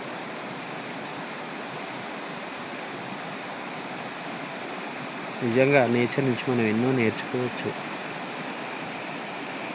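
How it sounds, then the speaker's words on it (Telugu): A natural stream flows with an even, continuous rushing hiss, steady and close throughout, with a person talking briefly over it partway through. "ఇది ఈ ప్రవాహము."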